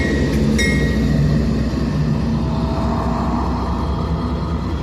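AC44C6M locomotives pass at night with a loud, steady rumble, rolling rail noise and a low engine drone that holds throughout, plus a brief high squeal near the start.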